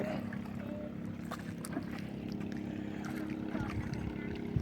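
A motorboat engine runs steadily as a low, constant drone with wind and water noise, while voices talk faintly over it.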